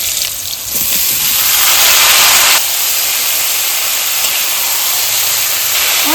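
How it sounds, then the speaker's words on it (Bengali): Young jackfruit frying in hot oil in a pan, a steady loud hiss that swells for the first couple of seconds and then settles into an even, continuous sizzle with no talking. "এবার আমি ইঁচড়টা ভেজে নেব।"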